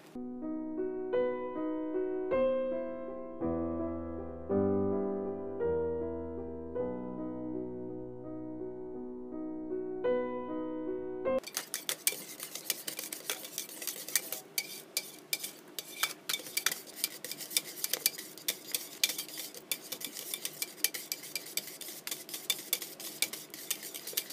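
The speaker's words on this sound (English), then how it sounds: "let's give it a nice whisk" Banana milk hot-process soap batter is whisked in a container, a busy rapid scraping and clinking that starts abruptly partway through after a stretch of soft music, continuing densely to the end with no talking.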